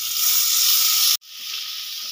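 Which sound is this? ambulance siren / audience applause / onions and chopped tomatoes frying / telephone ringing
onions and chopped tomatoes frying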